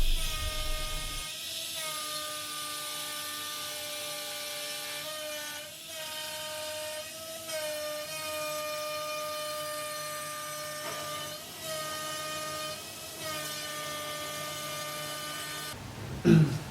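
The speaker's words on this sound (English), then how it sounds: "And so we used a CNC to do this." A CNC router cuts a cable port into the top of a wood wall-hung media cabinet, giving a steady high-pitched whine with bright harmonics that runs loud and continuous for about fifteen seconds before cutting off abruptly.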